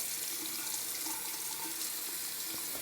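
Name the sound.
water running from sink tap, rinsing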